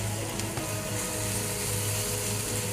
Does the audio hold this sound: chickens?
no